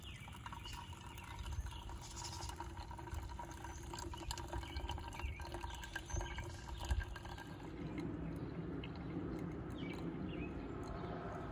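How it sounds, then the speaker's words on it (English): Water trickles and splashes quietly as it is slowly poured over coffee grounds in a metal flask filter, a soft, continuous pour heard up close and without talk. "And then it's just slowly adding water."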